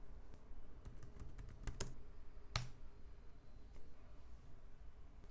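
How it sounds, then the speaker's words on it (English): Typing a Vagrant SSH command on a computer keyboard: a short burst of crisp, close key clicks, then one stronger keystroke and a few scattered taps against a quiet background. "we'll simply type Vagrant, SSH, and then the name of the virtual machine"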